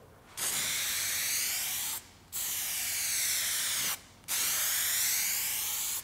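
Spray paint from an aerosol rattle can hisses in three long, steady bursts onto a car's bodywork during a final coat, with short pauses between passes.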